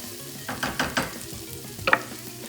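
Garlic frying in a pan alongside pre-cooked squid, a soft steady sizzle broken by a few short stirring scrapes and one sharper clatter, close and quiet.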